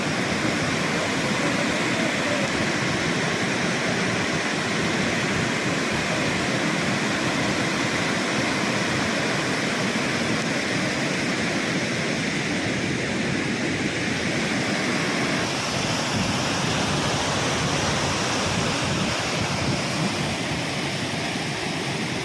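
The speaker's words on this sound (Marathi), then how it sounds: "ह्या ठिकाणचा तेरणा धरणातील पाणी जे आहे ते बंधाऱ्यावर खाली पडत आहे" Overflowing water from the Terna dam pours down onto a weir, a loud, steady broadband roar of falling water that holds constant throughout, with no voices.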